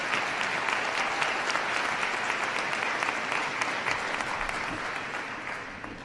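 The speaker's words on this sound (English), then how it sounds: "Let's give them a well-deserved round of applause." A large audience at a high school commencement ceremony applauds the faculty, a dense, sustained round of clapping that holds steady for several seconds before beginning to taper.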